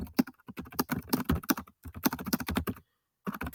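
Words are typed on a computer keyboard in rapid, close bursts of crisp key clicks, with a short pause in the middle before the clattering resumes, and no voice over it.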